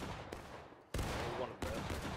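Gunfire from Civil War-era rifles in the multiplayer game War of Rights, several loud, close sharp shots with long echoing tails and distant volleys behind them.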